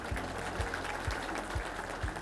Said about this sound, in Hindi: तो जोरदार तालियों के साथ आप इसका समर्थन कर दीजिए।